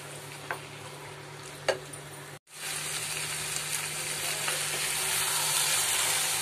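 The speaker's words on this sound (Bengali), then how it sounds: "বাকি চিকেনগুলো আমি এর মধ্যে একে একে সবটাই দিয়ে দেবো" Chicken pieces go into hot oil in a pan for a Mughlai chicken gravy, bringing a few soft knocks and then a brief hush before a loud, steady close sizzle that builds and holds to the end.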